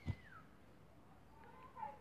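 A cat meows faintly in Minecraft, with a couple of thin, rising and falling cries after a brief soft bump, quiet and somewhat distant over low background noise.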